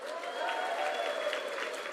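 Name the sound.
audience applause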